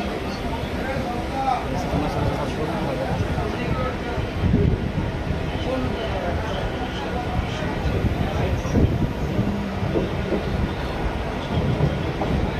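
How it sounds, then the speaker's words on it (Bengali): A passenger train on an inaugural run pulls into platform 3 at Cossimbazar station, a continuous low rumble and wheel clatter throughout, with a crowd and voices talking over it. "কাশিমবাজার স্টেশনের 3 নম্বর প্ল্যাটফর্মে ঢুকলো এই ট্রেন"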